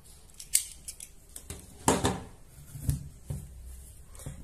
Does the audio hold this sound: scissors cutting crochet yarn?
yes